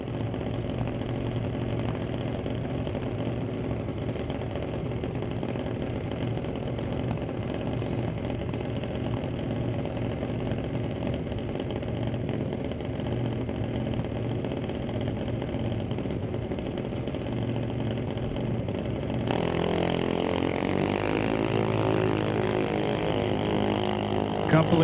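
A 2004 Creative junior dragster runs during divisional drag-race qualifying at the NHRA Canadian Sportsnationals, a steady, close, buzzing engine drone that holds for about twenty seconds and then lifts sharply in pitch and intensity near the end, with no talk.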